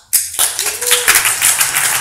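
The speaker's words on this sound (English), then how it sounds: "If I'm getting a clap for that one" Studio audience clapping after a presenter demonstrates cumulative values in pivot tables, a sudden burst of broad applause that stays steady and fairly loud for the full length.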